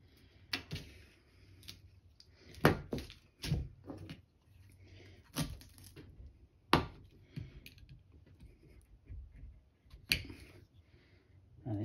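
A Civivi Pintail knife snaps through thick zip ties in a few sharp, close cuts with quiet pauses between them, and no one talks.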